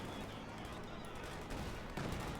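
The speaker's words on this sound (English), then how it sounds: "encounters a heavy volume of the Bazooka fire that takes down to less than half health" Dense, continuous battle fire from Company of Heroes 2 as bazooka rounds hammer a unit, a rough wall of blasts and shots that surges louder in the last half second.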